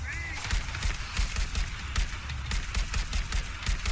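Rapid gunfire from The Division 2: Warlords of New York, a dense stream of repeated shots in a steady, busy rhythm, loud and close, with a voice speaking over the shooting.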